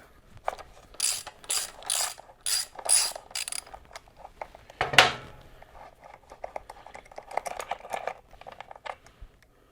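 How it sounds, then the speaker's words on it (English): A 9/16 wrench ratchets out the two breather bolts on a Harley-Davidson Sportster motorcycle, giving bursts of quick metallic clicking with short pauses and a louder clank midway, close and with no talk. "Now you can take a 9/16 wrench and take the 2 breather bolts out."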